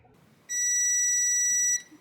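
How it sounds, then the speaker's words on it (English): A continuity tester gives a single steady electronic beep lasting just over a second while probing an aux cable against a PCB, in an otherwise quiet room. "now I can do a simple continuity test and it will beep when the aux cable matches the PCB."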